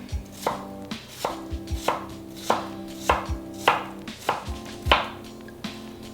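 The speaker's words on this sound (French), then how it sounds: "Et voilà une brunoise de pommes pour la salade de curry" A knife cuts apple into fine brunoise on a board, about a dozen crisp, sharp chops in an uneven rhythm, close and clear with no talking.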